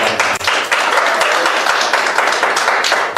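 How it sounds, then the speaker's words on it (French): Steady, dense applause from a crowd at a wedding ceremony in a town hall, clapping loudly and continuously throughout with no pauses. "Applaudissez très très fort"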